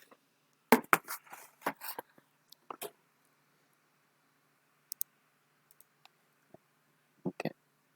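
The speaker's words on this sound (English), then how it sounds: "I'm going to type this out." Typing on a keyboard in a quiet room, a few quick bursts of faint clicking keystrokes separated by pauses, with scattered single taps.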